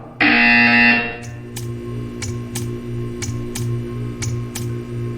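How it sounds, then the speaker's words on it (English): In the game Portal 2, a loud electronic buzzer sounds for about a second, then a humming room tone with a string of crisp, evenly spaced clicks follows. "You will hear a buzzer."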